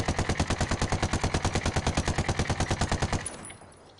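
Rapid sustained automatic gunfire in Ghost Recon Wildlands, a fast even stream of about twenty-five close, loud shots aimed at a sign with recoil held down, stopping abruptly and leaving a short fading echo.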